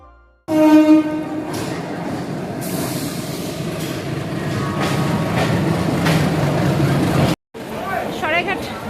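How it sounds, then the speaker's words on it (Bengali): Saraighat Express pulling into a station: a loud, steady rumble of train cars with clanking and a brief horn-like tone, mixed with platform noise and voices, cutting out briefly near the end. "সরাইঘাট এক্সপ্রেস ঢুকে গেছে, আমার একটা নতুন যাত্রা শুরু"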